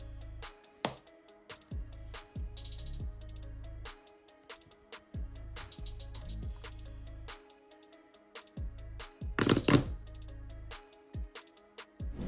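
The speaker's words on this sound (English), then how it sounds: "Enjoy the sound of multiple Nintendo DS cases closing." Multiple Nintendo DS game cases snapping shut, a long irregular series of sharp plastic clicks, some quick and clustered, heard up close over faint tonal background sound.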